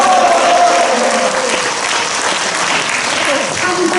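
An audience at a literary book-launch gathering in a live café applauds and cheers readers and authors, sustained dense clapping with shouts rising and falling, and a voice briefly audible through it.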